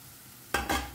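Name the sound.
chopped tomato added to frying onions, sizzling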